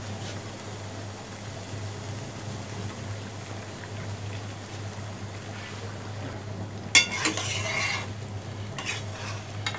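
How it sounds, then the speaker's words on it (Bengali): Spices with vinegar, garlic and ginger paste being stirred and fried for a whole olive pickle, a quiet steady sizzle joined late by a few louder bursts of spoon scraping against the pan. "এখন এইভাবে নাড়তে হবে মশলার পরে, ভালো করে কষিয়ে নিতে হবে"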